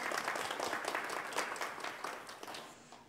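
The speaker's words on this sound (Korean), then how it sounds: "우리 박수 한번 할까요?" Applause from a church congregation at a Wednesday evening Bible study, a dense, fairly soft patter of many hands clapping that gradually fades out toward the end.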